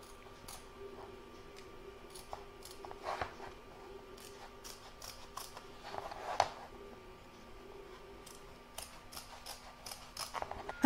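Scissors snip through fabric to free it from an embroidery hoop, a series of quiet, scattered clicks and short crisp cuts against a faint steady hum.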